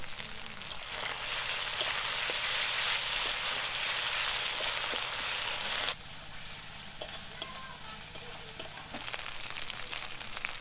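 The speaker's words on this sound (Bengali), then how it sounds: "মশলা 5 মিনিট ভেজে নিয়েছি" Spice paste of onion, cumin, garlic, ginger and green chilli with chopped tomato fries in a pan, a loud steady sizzle with occasional stirring scrapes that drops to a quieter crackle halfway through.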